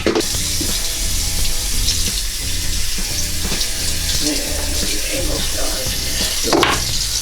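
Water runs from a tap in a steady, loud rush, with faint rhythmic background sounds underneath.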